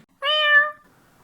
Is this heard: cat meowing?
yes